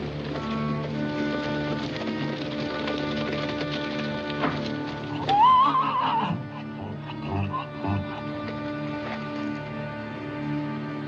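Horses moving about at a corral in a Western setting, hooves clip-clopping among patters and thuds, with a brief whinny-like cry partway through over a steady background of music.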